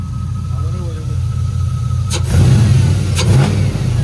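A 1999-2007 Chevrolet Silverado pickup engine on newly fitted solid motor mounts rumbles low and steady, then revs up twice in short bursts, close by.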